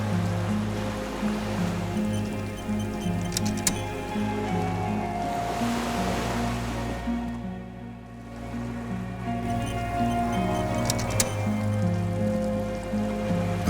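A small wooden skiff rocking gently on water in the video game Disco Elysium, with a steady wash of lapping waves and water sloshing against the hull under a low ambient musical drone, briefly easing in the middle.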